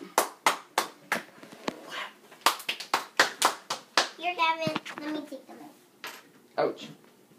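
Adults and children clap at a child's birthday party right after the birthday song, a run of loud, close, evenly spaced claps, then a burst of excited children's voices and a few scattered claps.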